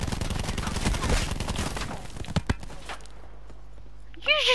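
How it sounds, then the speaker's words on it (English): Rapid gunfire rattles in Call of Duty: Black Ops 4 Blackout, a loud burst of shots for about two seconds, then a few sharp isolated cracks before the action fades to quieter footsteps. "You just shot me!"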